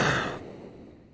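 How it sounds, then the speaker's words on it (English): A commentator clears his throat once near a microphone during a rowing regatta broadcast: a short, loud, breathy rasp that fades quickly over about a second. "Pardon me for clearing my throat."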